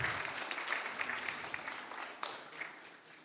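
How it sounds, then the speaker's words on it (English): An audience at a women's awards event in Paris applauds, sustained crowd clapping at moderate distance that slowly tapers toward the end. "Another round of applause, please, for Mami."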